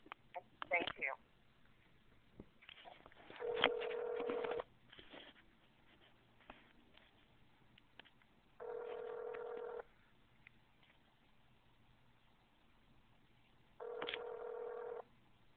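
Telephone call tones during a customer-service transfer: several separate bursts of steady, evenly held ringback or dial tones with quiet line noise and brief faint voice fragments between them.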